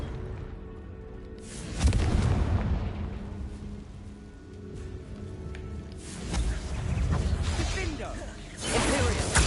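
Fiery Confringo spell blasts in Hogwarts Legacy, several deep booming bursts with rushing whooshes that rise and fade one after another, loud and near, with a voice speaking briefly between them.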